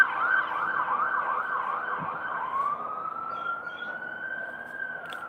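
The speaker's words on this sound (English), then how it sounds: "There's sirens." A wailing emergency siren sweeps up and down rapidly, then shifts to a long steady rising tone, loud and fairly close, with road noise underneath.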